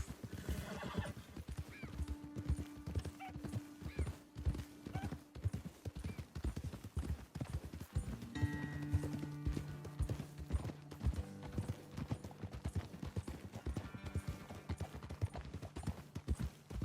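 Horses riding in the video game Red Dead Redemption 2, with steady rhythmic hoofbeats clip-clopping throughout and occasional whinnies, close and continuous alongside faint background music.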